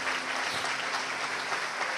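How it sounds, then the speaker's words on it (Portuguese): A church congregation breaks into steady, dense applause, a continuous wash of many hands clapping that fills the room at full volume without pause. "Vamos aplaudir, igreja."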